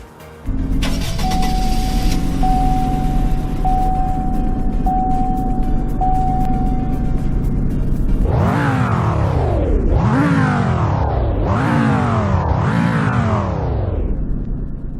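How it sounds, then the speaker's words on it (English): Revver truck, a fictional Hummer stand-in with a five-cylinder engine, in the Roblox game Greenville, idling steadily, then revving hard four times in succession with rising and falling sweeps, loud and close. "It also has a giant Revver badge here in the bed, which is the fictional name of Hummer in this game. And here's how it sounds."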